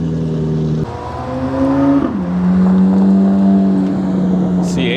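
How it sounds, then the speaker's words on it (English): Chevrolet Corvette C8 engine at a cars and coffee meet, a loud nearby tonal drone that drops, then climbs and holds steady in a sustained rev, with crowd noise faintly underneath. "C8 sounds really good."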